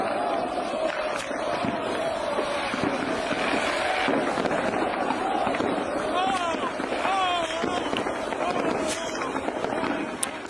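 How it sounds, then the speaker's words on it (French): Illegal fireworks and flares set off by soccer fans in a Montreal street, crackling bursts and whistles amid constant crowd noise and talking, dense and busy throughout. "des partisans d'une équipe de soccer marocaine qui ont allumé des feux d'artifice puis des feux de Bengale de façon totalement illégale à Montréal"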